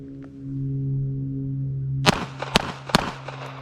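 Three sharp, loud pistol shots from a Ruger Security 380 at the range, spaced roughly half a second apart, preceded by a steady low hum.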